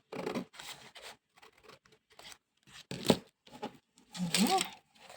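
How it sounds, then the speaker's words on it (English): Scissors trim excess paper off a junk journal cover in short, crisp snipping bursts separated by quiet pauses, with a person talking between cuts. "now I might just trim this little bit of excess off"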